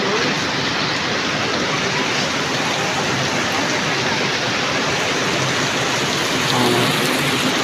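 Steady rain falls during an outdoor trip, a dense even hiss that continues unbroken at moderate loudness, with no voices clearly above it.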